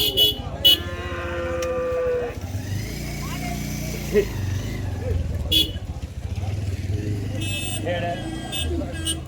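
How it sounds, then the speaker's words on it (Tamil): Cattle at the Vaniyambadi livestock market, lowing amid a busy crowd of talking voices, with passing vehicle engines and occasional horn toots mixed into the steady outdoor din. "இன்னைக்கு கொஞ்சம் மாடு கொஞ்சம் நிறையா வந்திருக்கு"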